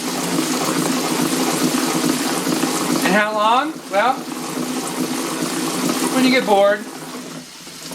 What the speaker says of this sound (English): Run the water right in this area right here.